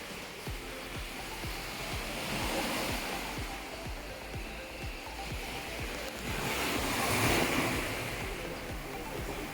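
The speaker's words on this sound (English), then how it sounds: "right outside you can see the ocean and you can hear the ocean waves" Ocean waves wash ashore beside a Caribbean hotel in Dominica, a continuous roar of surf swelling and easing in two broad surges, with light wind buffeting the microphone.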